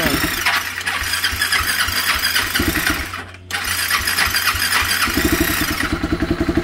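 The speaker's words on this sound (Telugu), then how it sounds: "మన బండి అయితే స్టార్ట్ అయిపోయింది మామ" A 390 motorcycle engine cranks and fires, its rapid thumping pulses running loud and close, dropping out for a moment, then settling back into a steady idle putter.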